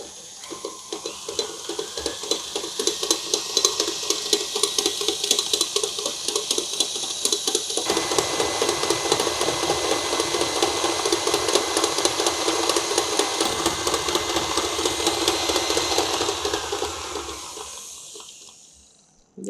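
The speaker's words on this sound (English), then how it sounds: "Now this I'm going to beat on medium-high speed for about 5 to 7 minutes until the butter and the sugar becomes cream" An electric mixer beats butter and sugar at medium-high speed, a steady whirring motor drone with a continuous rattling buzz that holds for nearly twenty seconds before it winds down.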